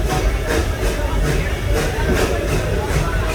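Serengeti Express ride train at Busch Gardens, Florida, rolling to a stop: steady low rumble and rail hiss with faint periodic clicks, loud and close throughout.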